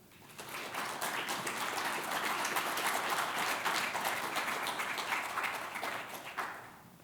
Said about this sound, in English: Please give a huge round of applause for Spencer Raposo.